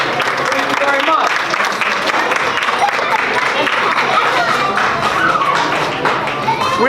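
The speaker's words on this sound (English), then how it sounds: "Boys and girls, applause for my assistants right here." Students clap at a school student-of-the-month celebration, a loud, busy crowd of hands with scattered individual claps and thumps mixed with faint chatter and cheering voices throughout.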